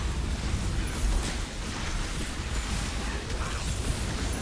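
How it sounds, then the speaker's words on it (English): A big bomb exploding in the video game Dwarven Realms, heard as a loud, sustained rumbling roar with crackling debris that fills the whole stretch without a single sharp peak. "Now let's hit him with the big bomb."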